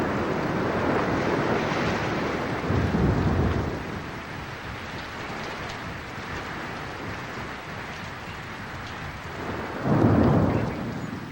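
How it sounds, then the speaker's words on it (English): A heavy rainstorm during seasonal downpours: steady broadband hiss of rain with two deep rolls of thunder, one near the start and a louder one near the end, and no voices. "The rains have come."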